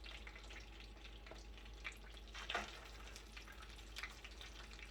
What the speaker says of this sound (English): I'm just browning it for a little bit